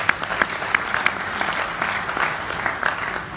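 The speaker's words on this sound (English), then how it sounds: "Can we clap for Jesus Christ?" A church congregation at an RCCG men's gathering claps together, a moderate patter of many hands with a few sharper accented claps standing out in an uneven rhythm.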